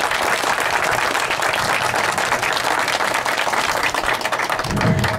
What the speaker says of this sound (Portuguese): E a quem queria uma salva de palmas por ela e pela sua família.